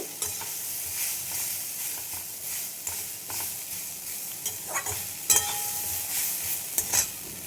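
Dal being stir-fried with spices in a pan for chapor ghonto: a soft, continuous sizzle with occasional scraping knocks of a spoon stirring, a few louder clatters near the end.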